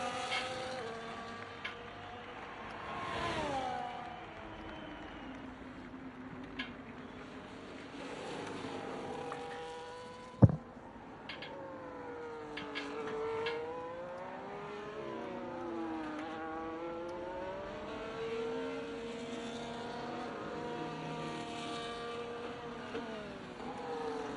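A Mercedes race car in a sim racing game at Singapore, engine revving and shifting through rising and falling pitch sweeps, moderately faint and steady, with one sharp click partway through.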